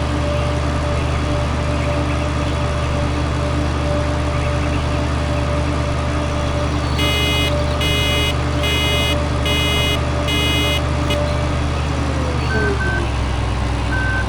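A vehicle alarm goes off in the farming game Farming Simulator 2013, sounding as a run of about five evenly spaced, loud beeping pulses over a constant rumbling engine drone.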